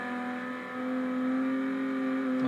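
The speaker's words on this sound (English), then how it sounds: "Now we're just doing some full throttle turns right here." A 1995 Volkswagen Corrado VR6 engine held at full throttle through turns, a steady strong harmonic drone that swells slightly midway and stays loud and continuous with no talking.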